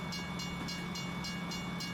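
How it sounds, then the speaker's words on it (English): A long train passes in the American Truck Simulator video game, with a faint steady rumble and evenly spaced rhythmic clacks of the cars rolling by, no voices. "this is a long train, and I don't even have the long train script in"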